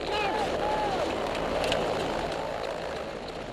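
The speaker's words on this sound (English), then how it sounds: "The helicopter that's come to pick them up has overshot the landing zone and set down in an exposed field." A helicopter sets down in an exposed field in Afghanistan, a steady, loud rotor and engine roar throughout, with a voice speaking over it.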